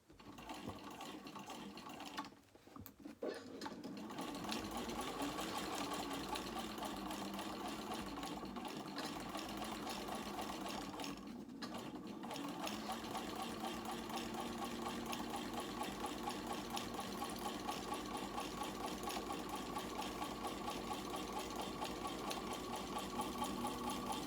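A sewing machine runs a long continuous seam along the lining of a small crossbody bag, a steady close hum with fast needle rhythm, pausing briefly twice before carrying on.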